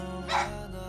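A single sharp bark comes from a dog that barks at empty air for hours a day. It is loud and close, with a quiet background before and after.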